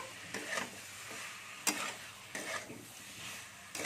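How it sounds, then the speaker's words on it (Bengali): Vegetables are sautéed with a spice mixture in a pan, giving faint soft sizzling broken by several sharp spatula scrapes and clicks against the pan at an irregular pace. "এবার আমি যে নেড়ে রেখেছিলাম সবজিগুলো আমি সেগুলো ঢেলে দিচ্ছি এর মধ্যে দিয়ে মশলার সাথে ভালো করে আমি কষে নেবো।"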